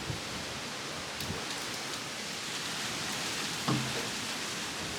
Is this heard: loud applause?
no